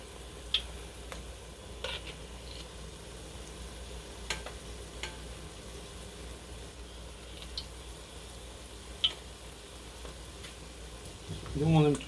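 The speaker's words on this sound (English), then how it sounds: "So we're just going to put them in the fat." Belgian smoutebollen dough balls frying in fat, a steady low sizzle with scattered small pops and ticks, ending in a louder burst of bubbling.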